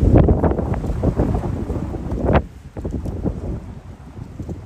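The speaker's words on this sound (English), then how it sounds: "The wind is a little unbearable today." Strong wind buffets the microphone in loud, rumbling gusts on a goat pasture, easing somewhat halfway through but continuing to roar steadily.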